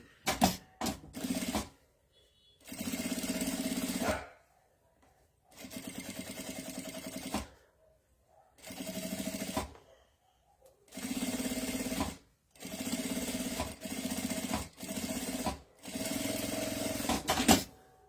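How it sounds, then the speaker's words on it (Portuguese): Domestic sewing machine running a half-foot topstitch around the edge of a messenger bag, heard in repeated bursts of steady mechanical whirring lasting two to three seconds each, with short pauses between them and no talking. "agora a gente vai passar a costura de meio pé de máquina em toda a volta para fazer um pesponto"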